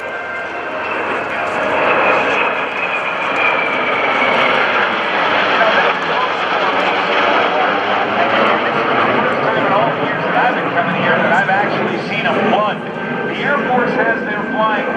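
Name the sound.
F/A-18C jet aircraft during aerial refueling demonstration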